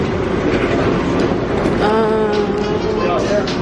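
An airport train rumbles close by with rhythmic rattling and a brief rising whine, while people talk over the noise.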